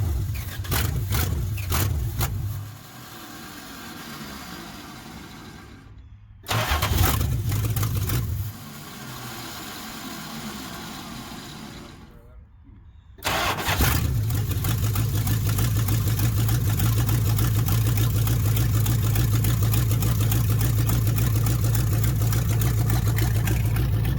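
A 1969 Chrysler 300 street machine, long neglected and running without its side pipes, cranks, catches and dies, then restarts and settles into a loud, rough, steady idle with no talking.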